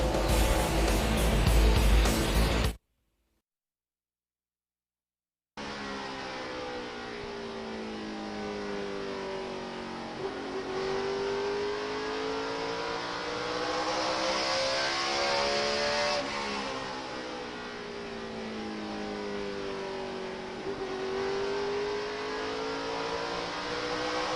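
Stock cars race at Richmond in the 2006 Chevy Rock and Roll 400, a loud sustained engine roar with pitch swells as the field passes, after a short gap of silence near the start.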